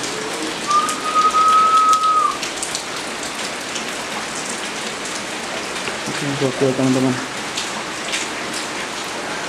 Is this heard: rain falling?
yes